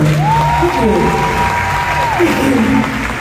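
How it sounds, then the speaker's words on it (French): Crowd applause for dancers at a concert in Yaoundé, a steady wash of clapping with a sustained voice or instrument tone gliding over it for about three seconds. "Un applaudissement pour les danseurs"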